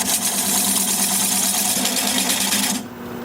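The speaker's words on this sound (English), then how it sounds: "Lathe is spinning at about 600 RPM" A wood lathe spins a bowl blank at about 600 RPM while a 3/8 inch bowl gouge removes the tenon, giving a loud steady mechanical hum with a rapid rhythmic chatter that drops away near the end.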